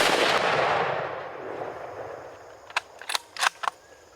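A rifle fired at a game animal during a Michigan hunt: one loud, sustained blast with a long decaying echo, then a few sharp, quieter cracks or clicks near the end, with no talking.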